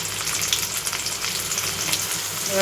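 Onion and tomato brown in a pan for a bitter gourd fry, giving a steady, close hiss of sizzling oil with faint stirring textures and no speech.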